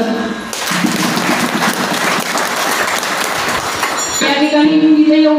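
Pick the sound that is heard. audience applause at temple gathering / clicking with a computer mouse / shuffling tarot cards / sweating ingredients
audience applause at temple gathering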